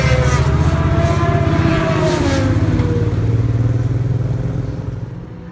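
Race vehicle pulling out onto the wet track at Brands Hatch on a Sunday race day, a loud close engine drone with a throbbing revving beat that fades slightly at the end, no voices.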